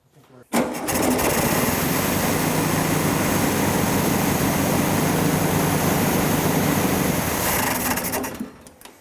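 A 1969 VW Beetle engine, started for the first time in 14 years, runs loud and steady at idle with a buzzy, rattling drone from start to finish.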